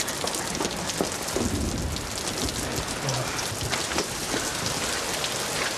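Steady, heavy rain pours down in a dense, continuous hiss, close and loud throughout, with a faint low rumble that could be distant thunder and no voices.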